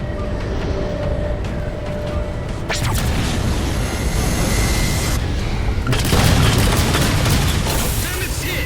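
A heavy explosion erupts in the Halo 4 video game as the Mammoth vehicle is hit, a loud, broad roaring blast that swells and rumbles on, with a second surge of debris-laden noise amid battle din.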